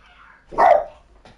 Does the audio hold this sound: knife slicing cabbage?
no